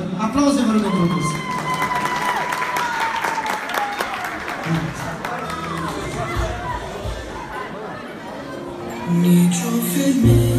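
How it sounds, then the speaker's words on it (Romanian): Guests at a Romanian wedding applaud and cheer loudly before the bride and groom's first dance, the clapping mixed with shouts, chatter and a voice over a lively, crowded room. "în aplauzele dumneavoastră urmează cel mai frumos și cel mai drăguț moment al serii, Dansul Mirilor. Aplauze, vă rog, frumos!"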